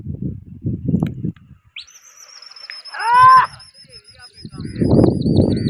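Pigeons call and flutter amid outdoor commotion at a pigeon-flying competition, with a thin whistle-like tone running through and people talking at the start and end.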